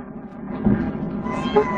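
A house cat meows twice in quick succession, close and fairly loud, with a quiet room behind it and no talk over it.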